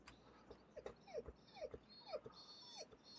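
A female dog whines nearby, a run of short rising whimpers and yips spaced across a few seconds, fairly quiet and with no voices over them.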